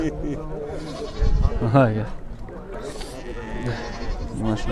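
Young goats bleat repeatedly amid the busy noise of a livestock market in Sokuluk, Kyrgyzstan, with people talking nearby over the animal calls.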